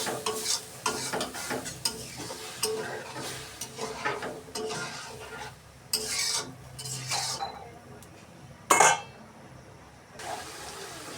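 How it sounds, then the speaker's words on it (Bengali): Fish curry gravy bubbles and sizzles in a pan on the stove, with steady stirring and occasional clinks of a utensil against the pan, close and moderately loud, with no talking. "মাছের ঝোল তো ফুটে গেছে দেখুন"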